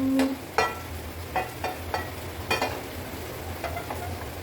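Mustard oil on a hot tawa, ready for a banana flower dry fry, crackles and spits in short separate bursts over a low steady background hum.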